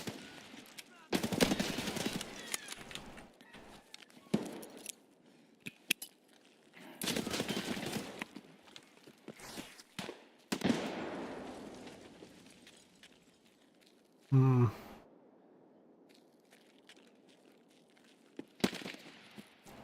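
AK rifle fire in SPT Tarkov, bursts of automatic gunfire at moderate distance that come in several loud clusters with quieter gaps, and a voice talks between the shots.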